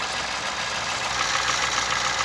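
A small-capacity car engine idles with the bonnet up, a steady, fairly loud even hum and hiss without any talk.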